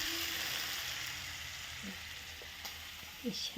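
Food sautés in a pan with a steady, close sizzle and a few light stirring clinks and scrapes toward the end.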